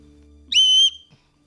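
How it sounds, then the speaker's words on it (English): A homemade whistle made of twisted metal gives one loud, shrill, steady blast lasting under half a second, alone against a quiet background. "This is what the metal is, and we would twist it around, and it becomes a whistle."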